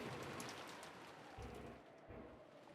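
Steady rain pours in the Umineko no Naku Koro ni visual novel, a dense, continuous hiss of drops with low rumbling swells underneath, with no voices.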